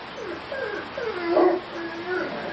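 A Rottweiler during defence training gives short, high whining yips in a string of rising and falling cries, fairly close, over a steady background hiss.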